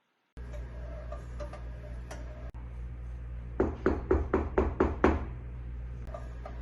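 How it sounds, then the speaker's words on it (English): A run of about seven quick, sharp knocks on a door in a staged historical play, rapid and evenly spaced, standing out against a low steady background hum. "someone's knocking at the door."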